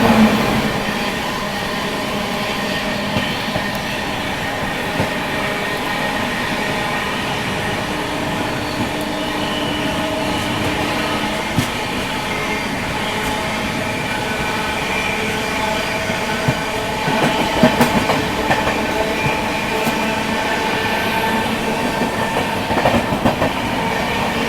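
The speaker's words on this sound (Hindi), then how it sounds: "आनंद विहार से चलकर भागलपुर को जाने वाली विक्रमशिला एक्सप्रेस।" Vikramshila Express passenger train running from Anand Vihar to Bhagalpur rolls past close by, with a steady loud rumble and rhythmic clickety-clack of wheels on rail joints throughout, no voices.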